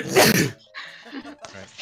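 A single sharp, loud sneeze bursts out close to the microphone at the start, followed by people speaking briefly.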